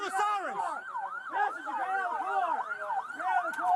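A police car siren wails close and loud, its rising and falling tones overlapping continuously throughout.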